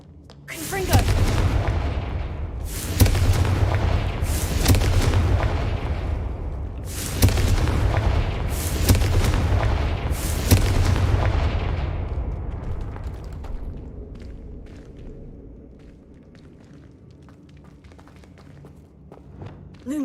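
Confringo fire spell explosions in Hogwarts Legacy, a run of six loud booming blasts in irregular succession that then fade into quieter game ambience.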